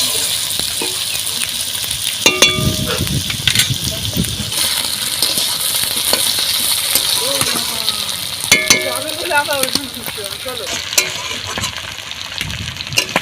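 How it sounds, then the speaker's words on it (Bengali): Potatoes and onions fry together in a pan with a steady loud sizzle, broken by occasional clinks and scrapes of stirring as the pieces are turned. "আলুটা আর পেঁয়াজটা একসাথে ভাজা ভাজা করে নেবো।"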